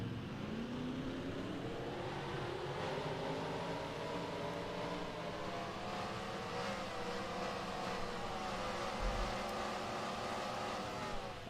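Race car engines fire up together in the racing game Racing Infinity before a 113-lap race, a steady layered drone of revving motors with shifting pitches that holds at constant loudness.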